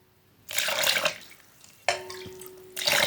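Water is poured in short splashy bursts into flour to make dough in a home kitchen: two or three close, bright gushes separated by brief quiet gaps.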